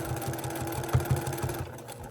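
A sewing machine stitches down quilt binding with a 1/4 inch seam, giving a steady, fast mechanical whir with a rhythmic low pulse, running continuously at moderate volume close by.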